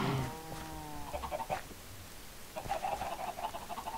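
Chickens cluck in the video game Minecraft, a few short clucks from a farm pen, moderately close and alone, with no talking over them.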